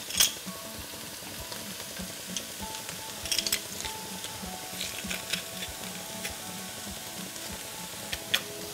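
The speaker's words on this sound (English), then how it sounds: "Then we want to stir this in and just saute for 1 minute more." Fresh pressed garlic and vegetables sautéing in a soup pot for vegetable soup, giving a steady low sizzle with a few light spoon scrapes and clicks, fairly quiet and close, with no talking.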